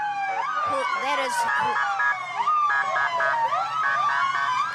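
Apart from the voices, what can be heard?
emergency vehicle sirens at parade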